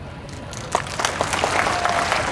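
A crowd at a political rally in Dehradun begins clapping, a few scattered sharp claps swelling into fuller, denser applause over the couple of seconds, moderately loud and without talk.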